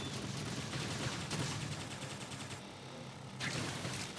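In the Xenoblade Chronicles X video game, a stretch of rapid gunfire rattles in dense, fast bursts. It stays faint and distant with a short pause near the end.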